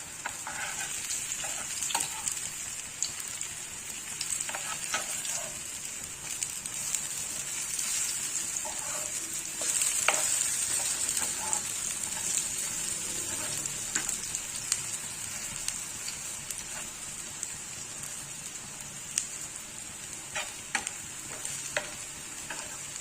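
Plantain fish fry sizzling steadily in a hot pan on a simmering stove, a dense continuous crackle of frying oil with occasional sharper pops, close and even throughout with no talking.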